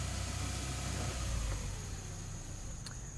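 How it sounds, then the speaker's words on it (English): A car engine idles steadily and close after a fuel system treatment, a continuous low hum with no voices and no clear shutdown. "So what we're going to do is we're going to turn the motor off."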